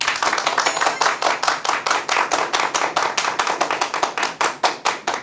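An audience at a televised lecture on a diet for healthy blood vessels claps in unison, a loud, close, evenly timed rhythm of sharp hand claps, about four per second, with no voices over it.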